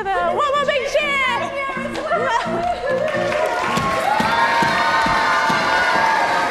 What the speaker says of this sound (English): One more big cheer!